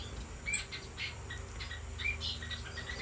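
Owl finches kept in pairs in an aviary give faint, scattered chirps and short tweets over a soft background hum, a few calls standing out briefly.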